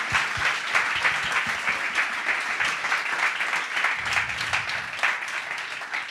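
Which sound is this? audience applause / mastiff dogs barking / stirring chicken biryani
audience applause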